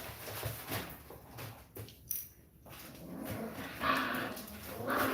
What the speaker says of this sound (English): You can use the audio from the live stream from the puppies.